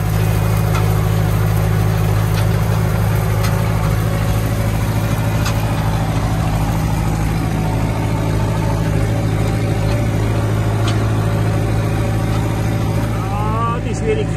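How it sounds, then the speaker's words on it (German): A loud tractor engine hums and rumbles steadily at a low pitch throughout, heard close by from the cab, with occasional faint clicks over the drone. "Aber der Bauer Housi weiß nicht, ob er in einem Traktor sitzt, der keine Klimaanlage hat."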